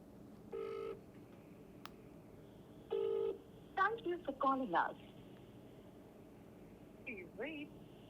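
Several short electronic phone tones sound in bursts, a steady beep then a quick run of shifting pitched tones, over quiet background noise.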